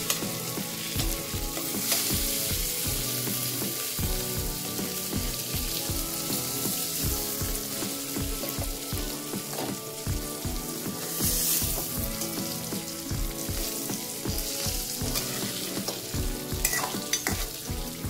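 Fish frying in a pan, a strong steady crackling sizzle running throughout with repeated rhythmic knocks and scrapes as the pieces are turned and stirred, close up with no one talking.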